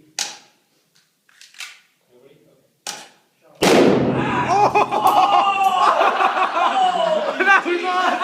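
A deodorant can buried in a campfire bursts with a sudden loud blast after a few quiet seconds and scattered voices, followed by a roaring, crackling rush and excited shouting.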